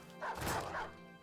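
A dog in a video game gives a single short, muffled bark, faint against a soft game background.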